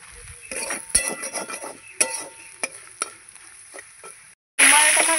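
Ginger and spices fry in a pan, with a faint sizzle under sharp, irregular clinks and scrapes of a utensil against the metal, close up, followed by a brief silence and then a sudden louder burst of frying.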